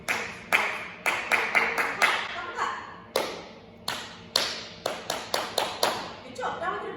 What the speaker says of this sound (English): I'm going to clap it, you're going to clap it back.